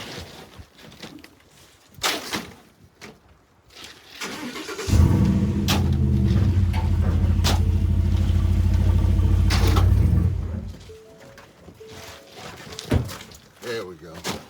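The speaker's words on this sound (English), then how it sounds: "I gotta back my truck up real quick." A pickup truck engine starts with a thunk and idles loudly for about five seconds as the truck backs up, then cuts off; someone talks before and after, with scattered knocks around it.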